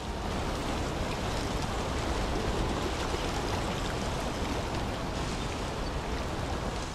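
River water flows steadily in the video game Syberia 3, a dense, even rushing noise with no pauses and no voices.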